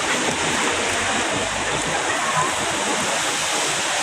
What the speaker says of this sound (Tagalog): Naulan siya. Maulan.